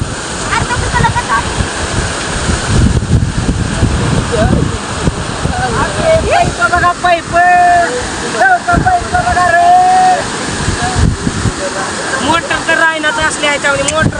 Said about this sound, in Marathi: इकडे बंधारा सगळा भरलेला आहे आणि पाणी वाहत आहे